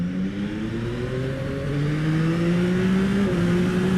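A 2021 Yamaha MT-09 SP motorcycle revs up steadily, its exhaust note and induction roar rising in pitch as a loud, continuous engine drone with no talking.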